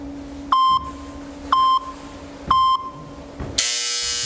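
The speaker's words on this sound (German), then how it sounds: "Ich bin das nicht, das ist der Timer." A workout interval timer during a home fitness session sounds three short electronic beeps spaced about a second apart, followed by a longer, louder buzzer tone, all loud and close.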